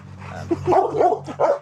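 A puppy gives several short, sharp barks and yips close by, in quick bursts, over a low steady hum.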